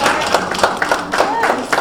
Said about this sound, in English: Can we get a round of applause for money?